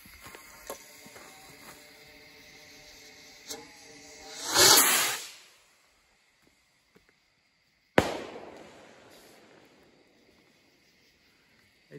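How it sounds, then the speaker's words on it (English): Homemade bottle rockets launch outdoors: faint ignition crackles, then a loud rising whoosh and hiss as one takes off, followed seconds later by a sharp bang and fading crackle, with crickets chirping in the quiet background. "I'm gonna fire off some rockets"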